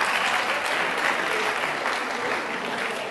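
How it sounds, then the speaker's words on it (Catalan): A studio audience at a Catalan spelling quiz show gives steady, dense applause for an eliminated contestant, a continuous wash of clapping without pause. "però un fort aplaudiment també per la Marta."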